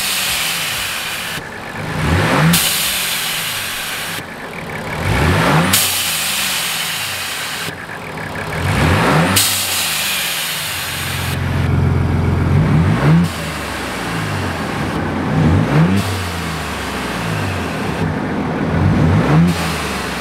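A 2022 Ford Bronco Raptor engine with a UPR/AMP blow-off valve adapter revs up and drops back about six times in a steady cycle, loud and close. Each throttle release ends with a brief airy whoosh.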